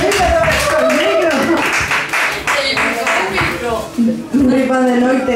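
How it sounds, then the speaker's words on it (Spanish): An audience at a jam session and slam-poetry night in a bar in A Coruña claps in scattered bursts, with loud nearby talk and chuckles over the hands. "Un aplauso para la zona que se nos ha quedado."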